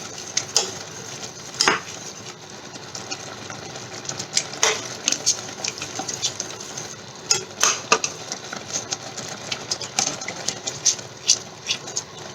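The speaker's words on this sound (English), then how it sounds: "You have to keep stirring till this sugar combines well, melts." Jamun jam being stirred with desi khand, an unrefined sugar, in a pot: a steady scraping and clinking of a spoon against the pan with irregular sharper knocks, close and moderately loud, with no talk.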